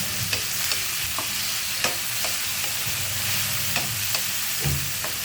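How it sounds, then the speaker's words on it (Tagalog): Tomatoes stirred and cooked in a pan for an egg soup dish, with steady frying sizzle and repeated scraping stirs of the utensil, close and alone. "Isahin nyo, lutuin nyo ng maayos yung kamatis."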